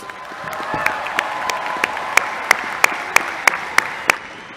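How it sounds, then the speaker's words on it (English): An audience at an engineering school's commencement ceremony applauds its graduates with a steady wash of clapping throughout. Several sharp, loud individual claps stand out close by in a fairly regular rhythm. "Let's give these graduates one more round of applause."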